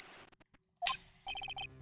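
Transceiver ringing in the Phoenix Wright video game, a short electronic chime followed by a quick burst of five rapid bright beeps, clear and close, after a few soft clicks.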